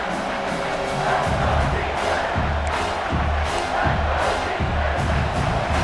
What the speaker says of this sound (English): this defense feeling energy from the crowd